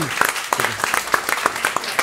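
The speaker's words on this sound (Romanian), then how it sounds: "Haideți să dăm o rundă mare de aplauze" Audience applause for a guest at a Romanian comedy show, a burst of sharp claps with cheering and voices mixed in, fairly close and lively.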